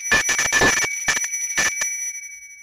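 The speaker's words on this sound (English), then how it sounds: "This is a Sarda bell from India." A Sarda bell from India rings in a fast run of bright metallic strikes, then several separate rings that fade into a sustained tone, close and clear with no voices.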